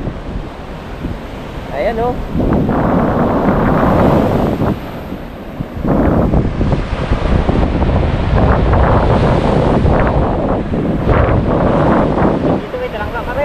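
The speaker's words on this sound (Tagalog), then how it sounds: "Grabe pa talaga yung alon." Strong ocean waves crash and surge steadily near a shore after a flood, under heavy wind buffeting on the microphone, while a person talks over the roar.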